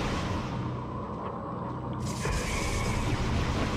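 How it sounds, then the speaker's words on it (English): Elevator machinery in the Metroid Prime video game, a steady mechanical rumble and creak that swells louder partway through, with no talk. "Ride the little elevator."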